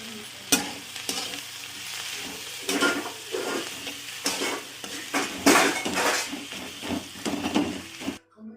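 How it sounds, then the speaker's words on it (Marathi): Onion, tomato and coriander sizzle and roast in a pan while a utensil stirs and scrapes against the metal in irregular strokes, close up, with no talking. "सर्व काही साहित्य परत भाजून घेणार"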